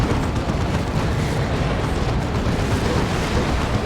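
Creeping barrage of artillery fire in the Warhammer 40,000: Dawn of War 2 real-time strategy game, a dense, continuous roar of overlapping blasts and rumbling explosions held at a loud, steady level throughout.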